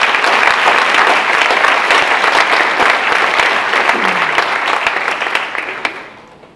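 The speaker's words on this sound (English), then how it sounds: "And that deserves a round of applause." An audience at a university address claps in sustained, dense applause that stays loud and then fades away over the final second.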